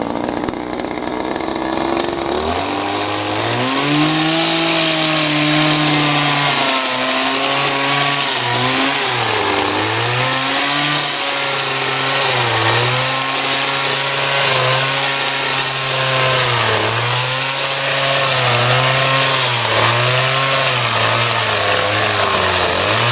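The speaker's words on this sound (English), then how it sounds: "Right, so on with the edge trimmer." Engine-driven edge trimmer cutting back dead lavender in a herbaceous border, a loud steady motor whine that rises and falls in repeated revving sweeps for over twenty seconds.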